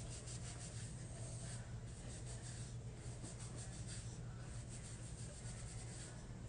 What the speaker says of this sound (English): you can just got grit, rub it all over your hands.